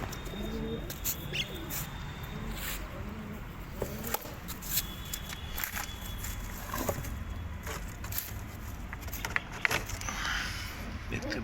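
Domestic pigeons in a loft, a newly caught male paired with a female, cooing softly on and off close by among rustling and scattered clicks and knocks.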